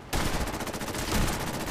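Heavy cannon fire aboard the U.S.S. Constitution in Fallout 4, a sudden loud blast opening into a dense, rumbling roar of rapid booms that sustains for under two seconds, close and with no talking.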